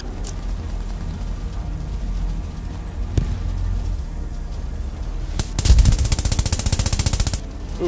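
Automatic machine gun fire in Post Scriptum, a World War II shooter, comes as a loud, fast rattling burst of rapid shots near the end, following scattered single shots and a steady low battlefield rumble.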